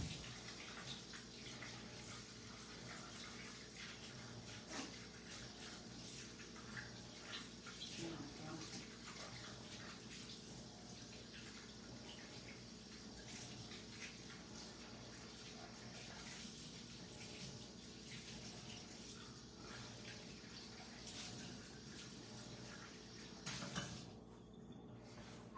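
Something being rinsed under running tap water, a steady faint rush of flowing water continuing throughout with a brief louder splash near the end, and people talking over it.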